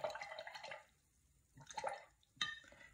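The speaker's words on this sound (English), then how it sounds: "I'm going to rinse off my brush here." A paint brush swished and rinsed in a container of water, giving short watery splashes and drips in three separate bursts with quiet gaps between them, close and fairly soft.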